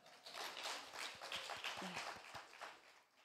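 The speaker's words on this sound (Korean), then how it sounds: "일단 용기의 박수를 쳐주십시오" A congregation claps during a Sunday worship service, a faint, scattered round of hand claps lasting a few seconds.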